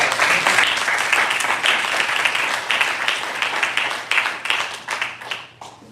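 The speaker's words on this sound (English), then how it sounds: "Give him a round of applause." An audience applauds after a guest on a local podcast, a dense wash of steady clapping that holds for several seconds before thinning and fading at the end.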